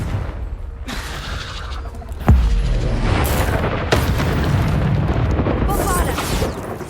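Hogwarts Legacy combat with a Confringo blast spell: a sharp explosive hit lands at about two seconds and another at about four, each followed by a sustained rumbling roar of fiery game effects, loud and close.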